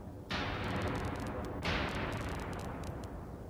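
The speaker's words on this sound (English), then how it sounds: "there's a fairly normal explosion, which is coming out of there. If we put it through this box, we'll see that it's got a sort of fireworks sound" A synthesized explosion run through an effects box comes out sounding like fireworks: two heavy bursts, each trailing into sharp crackling pops, loud and alone with no talk.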